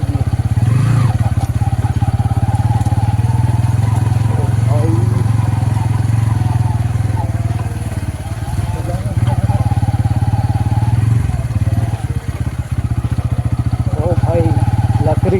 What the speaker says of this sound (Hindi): मेरा बाइक में ना थोड़ा दिक्कत आ रहा है, जो उस तरफ है ना थोड़ा लगा हुआ है, क्लक क्लक क्लक क्लक ऐसा आवाज़ दे रहा है।